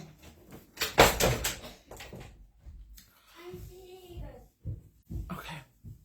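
A bedroom door shuts with a solid thump about a second in, followed by rattling and shuffling, with a voice and other faint household sounds around it.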